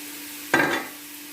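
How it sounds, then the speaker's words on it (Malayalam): Coconut oil is poured into a hot pan, giving one short, close sizzling burst that lasts under a second and fades against a quiet room. "പാത്രം ചൂടായിട്ടുണ്ട് കുറച്ച് വെളിച്ചെണ്ണ ഒഴിക്കുക ലേശം മതി"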